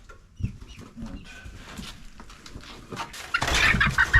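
Chickens cluck and squawk close by as they are shifted into a coop, with scattered short calls building to a louder flurry of flapping and fussing near the end.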